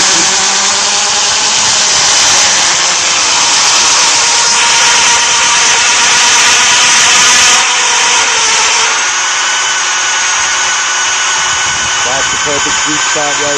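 Tungsten carbide tipped hole cutter bores steadily through material with a loud, continuous grinding whine that shifts pitch midway as it nears breakthrough, with voices talking faintly beneath.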